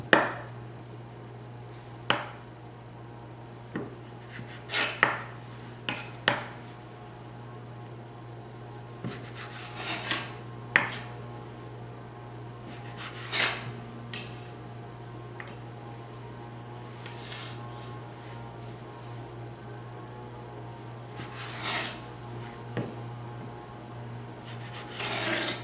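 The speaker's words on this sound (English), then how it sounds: "Now I like to do a little trimming here just to trim off the rough edges" Rough edges of fresh tortelloni pasta are trimmed on a work surface, giving soft scraping and tapping cuts spaced irregularly over nearly half a minute, faint against a steady low hum.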